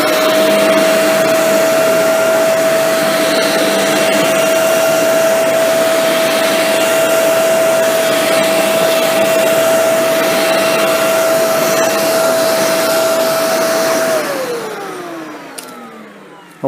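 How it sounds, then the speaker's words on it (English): A Shark APEX Zero M cordless stick vacuum with a motorized brush roll runs with a loud, steady high-pitched motor whine for about fourteen seconds while picking up debris, then spins down and fades out. "put it on the end of the vacuum handle, and let's see"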